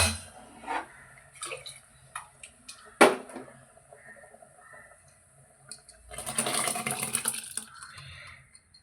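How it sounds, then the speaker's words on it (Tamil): A few scattered clinks and drips, then a burst of water pours and splashes into a metal pressure cooker for about two seconds. "அது தண்ணி ஊற்றி குக்கரில் கழுவி அதை ஊற்றிடுறேன்"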